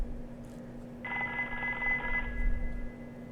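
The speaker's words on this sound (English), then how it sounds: "Oh, it's a phone call." A telephone rings in the survival horror game Haunting Ground: a single bright electronic trill lasting about a second, clear over a steady low hum.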